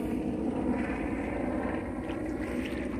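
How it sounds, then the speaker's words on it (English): A helicopter passes overhead at a distance near a beach inlet, a steady droning engine hum with a low rumbling throb holding constant throughout and no voices. "There goes the helicopter."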